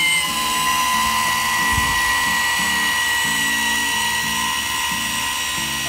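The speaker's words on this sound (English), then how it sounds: "You've got a trim tab actuator lifting a motor." Trim tab actuator lifting a boat motor, a steady close electric whine with a pulsing mechanical hum beneath, continuous and even.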